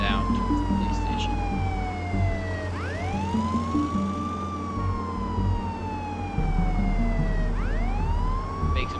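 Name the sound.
police car siren in video game Contraband Police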